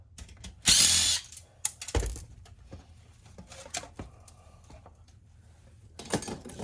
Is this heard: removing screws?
yes